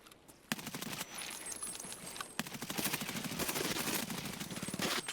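Rapid bursts of automatic gunfire in the shooter game Escape from Tarkov, starting after a sharp crack and running as dense rattling volleys over the last few seconds against a steady background hiss.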